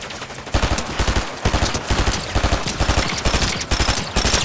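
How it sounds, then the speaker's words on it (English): Fortnite Chapter 5 Season 2 Zero Build gunfire from a bot firing through a bush: sustained, loud, near bursts of rapid automatic shots with steady rhythmic reports and brief gaps. "Bot shooting me through a bush?"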